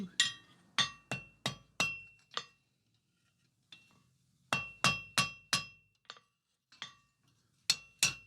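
Hammer blows peen a 6mm rod rivet joining a pair of blacksmith tongs, close sharp metallic clinks in quick groups of strikes separated by short silent gaps.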